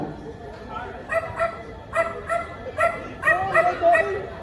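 A person's voice imitates a small dog barking, giving a string of short, high yaps in quick bursts, loud and close.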